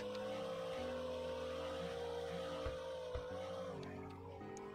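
A car engine hums steadily while driving in the Roblox game Car Dealership, its pitch dipping near the end, with a couple of soft bumps, moderately quiet and with no voices.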